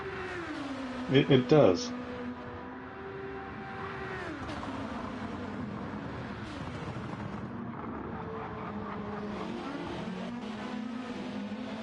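Race cars in a WEC endurance racing video game, engines droning steadily with rising and falling revs as they pass, a short burst of louder noise early on and a brief comment spoken over it.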